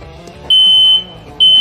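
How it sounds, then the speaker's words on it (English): A loud, piercing smoke alarm beeps twice in long electronic tones, close by, set off while crab-boiling water with Old Bay heats, with quieter kitchen noise between. "If you're not setting up your smoke alarm, it's not hot enough."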